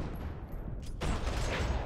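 A burst of gunfire rings out in a Rockstar action game running a John Wick mod, a sharp close volley cracking in after a moment of rumbling background noise.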